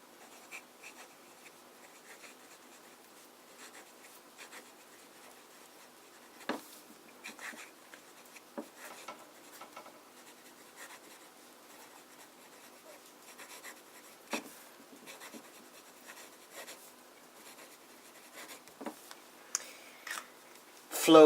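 A fountain pen filled with Edelstein Amber ink writes on paper, a faint, close scratching that continues throughout with occasional sharper ticks as the nib lifts and lands.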